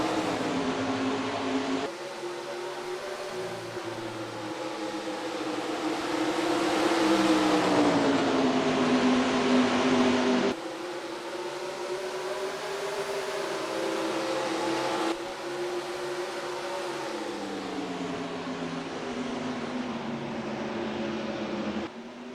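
NASCAR race cars in NASCAR Racing 2003 start a race at Milwaukee, their engines droning loud and steady as the pack rises through the gears together, with no talk over the roar.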